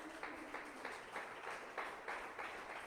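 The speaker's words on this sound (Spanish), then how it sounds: "Denle un aplauso al Señor Jesucristo." A congregation at a Sunday church service claps in steady, rhythmic bursts. The applause is faint and distant, with no voices over it.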